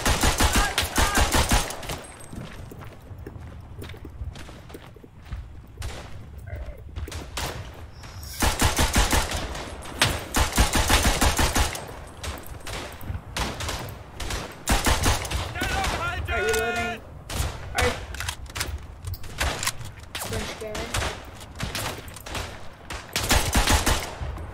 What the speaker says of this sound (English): I'm trying to shoot people while hip firing